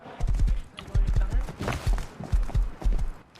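Horse hooves clip-clop in the video game Rust, a steady run of sharp thudding hoofbeats in quick pairs, close and fairly loud, with faint background sound.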